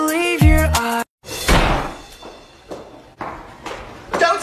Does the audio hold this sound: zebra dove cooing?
no